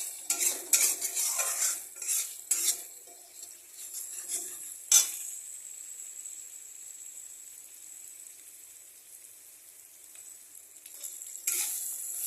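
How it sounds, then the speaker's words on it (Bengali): Chicken masala is stirred in a pan: a spoon scrapes and clinks against the metal over a steady sizzle, loud at first and then easing into quieter frying before a final scrape, with no talk. "মশলাটাকে একসাথে যাতে সব ভালোভাবে মিশে যায় সেই জন্য এটাকে ভালো করে নাড়তে হবে"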